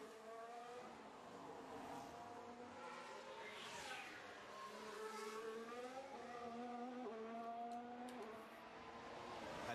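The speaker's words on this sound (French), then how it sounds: "Alex Albon qui vient de dépasser Lewis Hamilton, les pilotes Ferrari 4e et 6e pour l'instant." Formula 1 cars on track during a practice session in Baku, engine whines rising and falling as cars pass at a distance, a continuous moderately faint racing drone.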